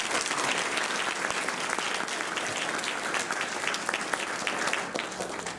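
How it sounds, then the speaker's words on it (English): A crowd at a college's 60th anniversary ceremony applauds in a dense, steady wash of clapping that holds at full strength for several seconds and tapers slightly at the end. "If you can please join me in a round of applause for them."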